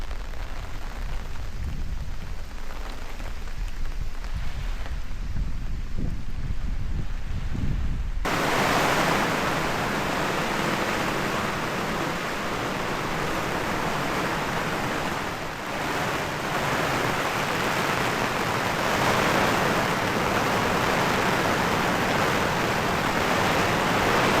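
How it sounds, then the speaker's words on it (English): Heavy rain hammers a KingCamp tent during a wild-camping storm. A dense, roaring wash of drumming swells sharply after a softer start and stays loud and constant at close range, with no voices. "This is a rainstorm. I can't even hear myself think."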